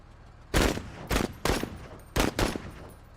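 Machine gun fire in the Mechabellum strategy game, five loud separate bursts with short gaps between them, each a sharp crack with a fading tail, sounding close with no voices.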